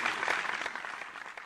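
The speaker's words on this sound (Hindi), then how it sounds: "आप अपनी पूरी टीम के साथ आकर के जोरदार ताली" An audience claps at a live Shrimad Bhagwat Katha religious discourse, with a dense, steady burst of applause filling the hall.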